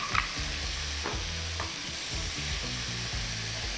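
Onions fry in a pan with a continuous sizzle, and a few sharp clatters of a utensil stir them near the start and middle. No one speaks.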